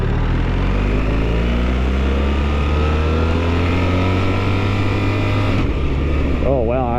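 A 2024 BMW R1300GS Trophy motorcycle idles and rolls in first gear, a steady low engine drone close to the microphone with wind noise, dropping away near the end as a voice speaks over it.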